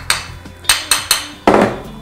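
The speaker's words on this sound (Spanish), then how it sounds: "aquí seguimos martillando" Hammer strikes on metal chain links in a workshop: five sharp, ringing blows, the first four evenly spaced and the last one heavier and followed by a rattling jingle, close and clear with no talk.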